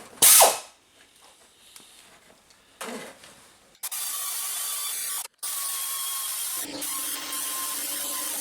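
A ratchet tightens bolts into aluminum on a GMC/Chevy 1500 power steering pump, a sharp burst followed by long, continuous clicking runs with brief pauses, close up.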